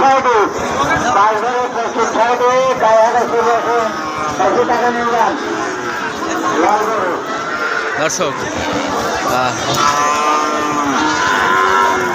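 Calves moo repeatedly amid a noisy cattle market, their calls overlapping with people talking nearby.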